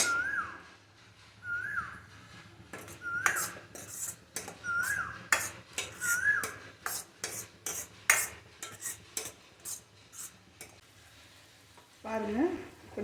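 Tomatoes sautéing in a pan for a quick fish curry, with a spoon or spatula scraping and clinking against the metal repeatedly in uneven bursts over a low frying hiss, and a voice briefly speaking at times.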